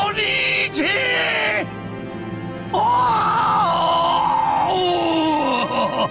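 A voice in the Umineko visual novel game lets out long strained groans that build into a scream and then a wail. The voice is loud, near and drawn out, with brief breaks between cries.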